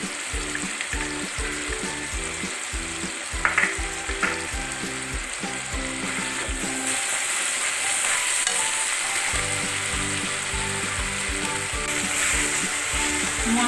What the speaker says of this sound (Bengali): মশলাটা আমাদের কষা হয়ে গেছে, মশলাটা এবারে তেল ছাড়ছে।